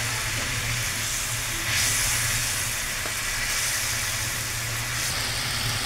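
Fried rupchanda fish tipped into a pan of spicy curry with green chillies sets off a steady, loud sizzle and hiss that swells briefly, then holds on without voices.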